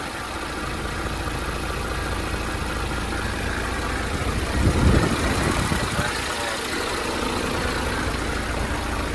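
Isuzu Forward truck with a 6HK1 diesel engine idling, a steady close-up rumble with a brief swell midway, while someone talks over it at times.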